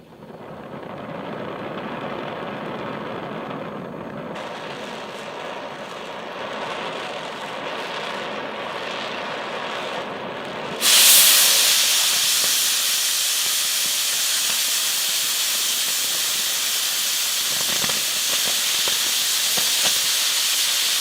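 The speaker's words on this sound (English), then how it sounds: "We'll cut some metal." A cutting tool slices through quarter-inch metal with a steady rushing hiss. Halfway through, it jumps into a louder, harsher roar and holds at that level to the end.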